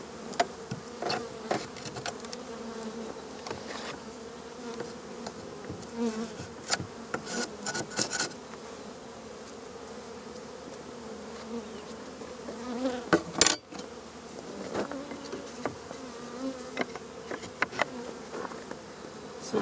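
Honey bees buzz steadily around an open hive whose colony has no queen and very little larva, a dense, continuous drone of many wings close by, with occasional louder passes and a few faint knocks.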